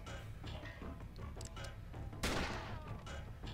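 Gunshots in the video game SteamWorld Heist, scattered faint pops under steady game ambience, then one sharp loud blast with a ringing tail near the end.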